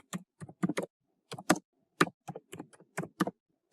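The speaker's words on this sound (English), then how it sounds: "So here I'll just type free online course" Typing on a computer keyboard: short bursts of close, crisp keystrokes in quick, uneven runs with brief pauses between words, with no talking.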